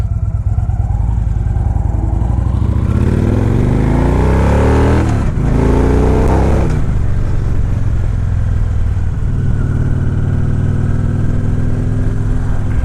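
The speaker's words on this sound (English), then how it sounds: "It's a smooth riding bike." A 2013 Victory Hard Ball motorcycle, all blacked out with floorboards, rumbles loudly and steadily while being ridden. The engine rises and falls through gear changes, with buffeting wind noise and no talking.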